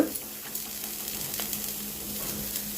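Cauliflower and peas fry in a pan with a steady, even sizzle and a soft crackle of oil, continuing without a break and without speech.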